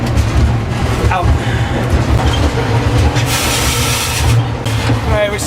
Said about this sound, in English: On board the train.